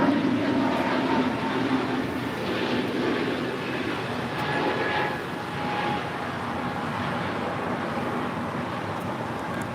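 An Avianca Airbus A320neo departs LAX bound for San Salvador, a steady broad jet roar that holds at an even level for the whole stretch, with no other sound standing out.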